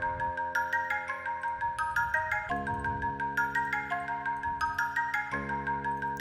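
An FL Studio hip-hop beat plays with a pitch-shifted melody raised higher over steady looping drums and bass, the melody stepping through repeated bright phrases with no voices.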